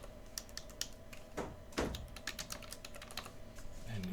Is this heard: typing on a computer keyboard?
yes